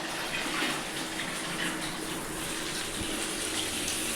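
Tap water gushes steadily from a household pipe into a storage container during the daily supply hour, a continuous, fairly loud rushing stream with no voices.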